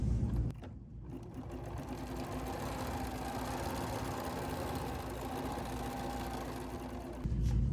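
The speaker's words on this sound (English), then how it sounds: "So now we're going to stitch our placement lines for our foam." A sewing machine stitches placement lines for foam on a trapunto pillow project, running as a continuous fast mechanical whir at steady pace, starting and stopping cleanly.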